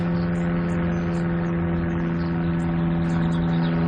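Propeller airplane passing overhead above a wildlife reserve, a steady loud droning engine hum with no speech.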